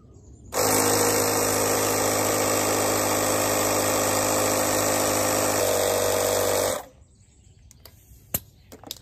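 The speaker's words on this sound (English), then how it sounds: "Now we're going to inflate it some more." A pump inflates a bicycle inner tube toward 40 PSI, giving a loud, steady mechanical drone that starts abruptly, runs for about six seconds and then cuts off, followed by faint clicks.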